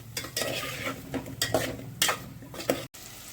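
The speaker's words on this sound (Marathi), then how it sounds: "एक मिनिट छान असं तेलामध्ये ही भरली कारली परतवून घ्यायची" Stuffed bitter gourds sauté in oil in a pan over a medium flame, with a gentle sizzle broken by several clinking spoon stirs and scrapes against the pan, close and fairly quiet.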